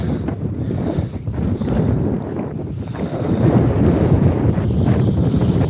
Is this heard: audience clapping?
no